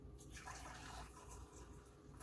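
Herbal tea, loose flakes and all, pours into a cup in a steady liquid stream that carries on quietly and evenly for a couple of seconds, with a faint trickling and splash throughout.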